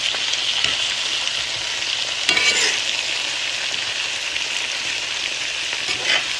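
Potatoes fry in a little oil in a pan, giving a steady, close crackling sizzle that runs throughout with no talk, broken by a brief scrape of stirring midway.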